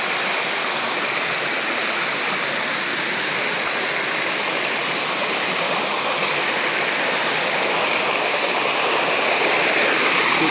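Steady, loud rush of flowing water at the source feeding a hydraulic ram pump, a continuous broadband roar that holds even for the whole stretch with no voices.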